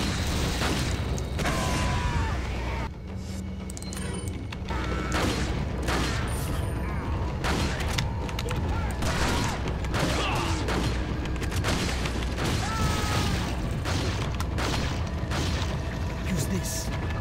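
Grenade blasts and gunfire in Resident Evil 4, a dense continuous wash of booms, shots and mechanical game effects under steady talk throughout.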